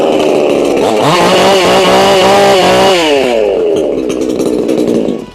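A Black Bull 6000 chainsaw engine revs loudly and steadily, its pitch rising and holding high before easing down and cutting off at the end.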